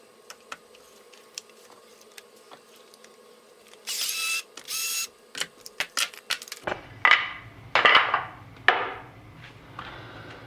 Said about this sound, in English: So I'm going to drill it out with the drill between these 2 pieces of wood.